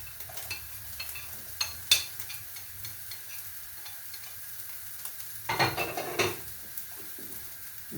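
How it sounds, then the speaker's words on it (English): Chopped onions frying in a pan with seasoning, a soft steady sizzle broken by scraping stirs and a louder burst of spoon-on-pan clatter partway through. "I'm just going to add some onions to those. We'll just cook through for a little bit."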